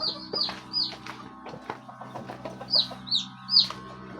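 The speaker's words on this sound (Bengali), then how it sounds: "এটার ভিতরে দেশি মুরগি রাখা হয়।" Native chickens clucking in a 30 by 7.5 foot poultry shed, several birds giving repeated short clucks and squawks at close to moderate distance, with a steady low farm hum underneath and no talk.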